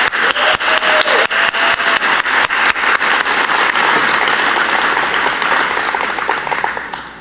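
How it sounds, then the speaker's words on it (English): A conference plenary audience breaks into loud, sustained applause: dense clapping with sharp individual claps standing out early, blending into a steady roar that fades slightly at the end. "Please join me in a round of applause for the superb work of Cynthia Adams and her team"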